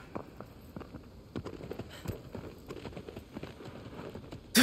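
A horse walks in the Shadow of the Colossus video game, its hooves giving a steady, soft clip-clop of uneven taps over quiet ambient game sound.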